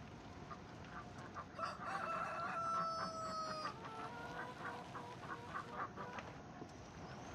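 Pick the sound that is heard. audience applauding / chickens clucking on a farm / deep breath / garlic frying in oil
chickens clucking on a farm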